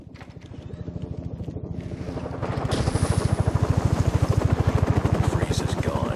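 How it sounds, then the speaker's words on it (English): Helicopter in the video game Batman: Arkham Origins, a steady rhythmic rotor chop that grows louder and fuller partway through and keeps thumping to the end, with no talk over it. "One of Penguin's goons will know where that chopper's going."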